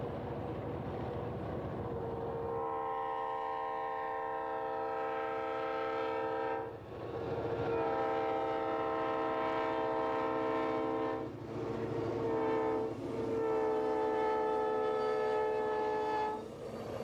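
A Maryland Midland regional railroad train sounds its horn in rural country: long, loud, chord-like blasts, broken by short gaps, over the steady rumble of the moving train.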